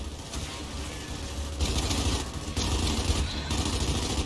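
Weapons fire in Gears 5 as a dense, continuous burst of machine-gun rattle and gunfire, loud and unbroken, with mechanical clatter underneath and slight surges in intensity.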